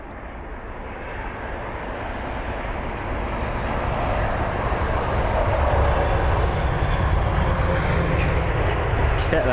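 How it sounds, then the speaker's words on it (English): A Biman Bangladesh Boeing 787 lands at London Heathrow, its jet engines a loud, broad roar that swells steadily and stays close. "You can see there that B-Man Bangladesh 787 was like, you know what, not wasting no time, let's get this aircraft right on the ground."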